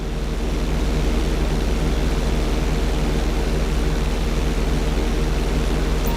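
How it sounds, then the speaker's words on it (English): A plane held in a knife-edge bank in GTA V gives a steady, loud drone of propeller engine noise with even, unbroken texture and no voices. "When I give you the signal, I want you to try to hold a knife edge with your plane."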